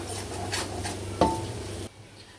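Spinach and gram flour being stirred together in a pan over low heat, a soft scraping and rubbing of spoon against metal with one sharper clink partway through, close and steady with no talk.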